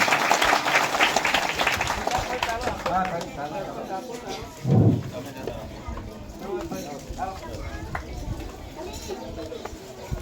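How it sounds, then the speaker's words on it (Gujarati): Applause rises in a dense, steady patter to welcome honorees at a program at Mudhiyari Primary School, strongest early on and thinning out, with voices talking through it. "જોરદાર તાળીના ગડગડાટથી વધાવીશું આપણે"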